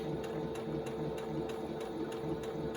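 A sewing machine runs steadily while stitching fabric for half square triangles, a loud, continuous close-up motor whir with a fast, even needle rhythm and no talking.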